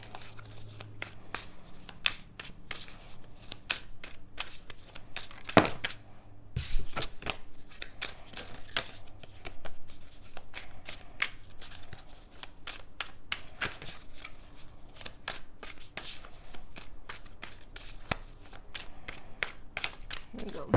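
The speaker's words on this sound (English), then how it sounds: "We're going to shuffle with a little more intention here." Tarot cards being shuffled again and again, crisp riffling and slapping sounds in an irregular rhythm, with a voice speaking at times underneath.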